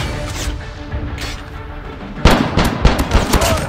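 Gunfire in the first-person shooter Call of Duty: a quick burst of close, sharp shots and booms that starts partway through, following a stretch of busy background game noise.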